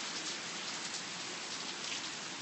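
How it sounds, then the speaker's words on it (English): Steady rain falls outdoors in Huntsville, Alabama, a dense, even hiss of drops on surfaces that holds at moderate loudness throughout, with no voices. "even the rain is kind of settling a little"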